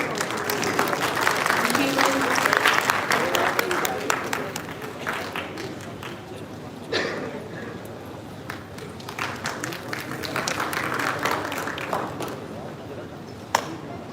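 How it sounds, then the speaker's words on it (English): An audience at a leadership conference bursts into a big round of applause, dense clapping strongest early, easing and swelling again over about fourteen seconds with crowd murmur and a few voices underneath. "Request for a huge round of applause, everyone."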